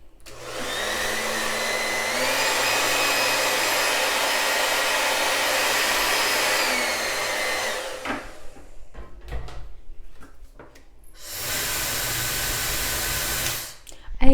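A Conair Testa Rossa hair dryer blows with a steady loud whir that shifts pitch once, then cuts off amid handling clatter before starting again briefly and stopping.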